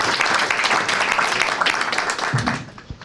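An audience at a symposium applauds after a speech, dense sustained clapping that thins out toward the end.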